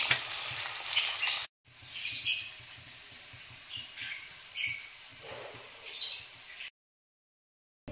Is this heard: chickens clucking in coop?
no